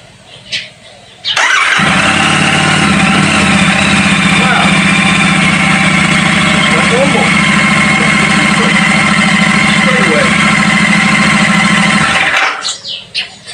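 A Royal Enfield Meteor 650 motorcycle engine cranks and fires up, then settles into a steady, loud, close idle that runs for about ten seconds before cutting off abruptly.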